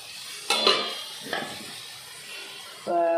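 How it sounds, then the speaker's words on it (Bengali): Prawns frying with onion in a pan, with a couple of sharp metal scrapes and clinks from stirring, then a steady sizzle rising near the end, close and fairly loud. "পেঁয়াজটা অল্প ভেজে চিংড়ি মাছটা দিয়ে দিয়েছি"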